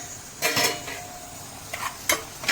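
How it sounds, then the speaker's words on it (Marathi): A metal lid comes off a pot of tomato and mutton curry, a few short clanks and clinks of metal against metal, quiet and close, with no talking. "असं आपण झाकण काढून घेऊया."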